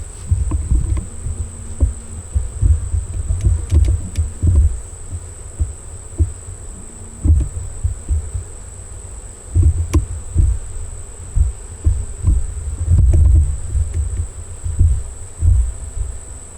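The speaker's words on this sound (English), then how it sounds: "This is where the bees are hiding." Honeybees buzz loudly and close around an open hive, a dense low hum with irregular surges and thumps of handling, and a steady high whine running underneath.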